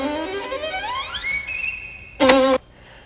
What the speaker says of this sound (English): That was the sound of somebody playing a violin.